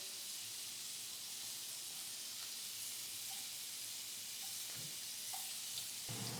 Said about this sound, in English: We're going to want to cook the onions with the ostrich steak.